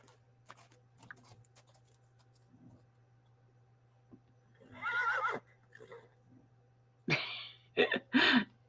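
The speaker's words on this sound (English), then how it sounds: "Did he just come by horse?" A horse whinnies nearby with a couple of loud, high neighs toward the end, after a quiet stretch of faint scattered rustling and tapping over a steady low hum.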